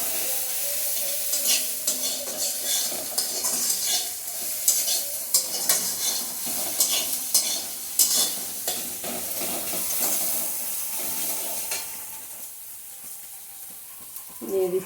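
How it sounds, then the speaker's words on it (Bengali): Spiced egg and onion being stirred in a frying pan for potato cutlets, a steady sizzle with repeated scraping strokes of the spoon, close and continuous, easing off slightly near the end. "মশলাটার সাথে ডিম পেঁয়াজটা ভালোভাবে নেড়ে চেড়ে তারপর আলুটা দেবো।"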